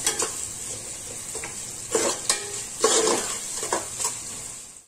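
Chopped onions sizzle in a pan while cooking down for pav bhaji, a continuous frying hiss broken by several scraping stirs of a spoon against the pan.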